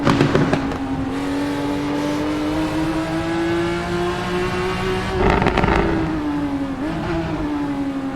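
A car engine in Assetto Corsa holds a steady droning note in third gear, pitch rising slowly under load with brief crackles near the five-second mark, loud and continuous throughout.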